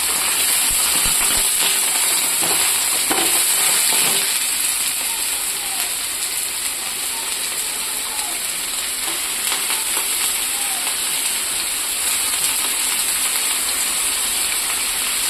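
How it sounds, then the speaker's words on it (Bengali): Chicken pieces fry with browned onions in a hot pan for chicken curry, giving a loud, steady close sizzle and hiss with occasional stirring scrapes and no talk. "এখন আমি এই মাংসটা ছেড়ে দেব,"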